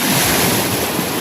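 Strong sea surf crashing at Malabrigo, Batangas, a dense, loud, continuous wash of breaking waves mixed with heavy wind noise on the microphone, with no voices.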